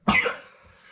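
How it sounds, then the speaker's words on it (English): A single sharp cough close to the microphone, brief and fairly loud, with a short trailing rasp as it fades. "Cough."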